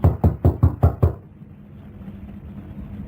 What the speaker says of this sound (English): knocked at a certain door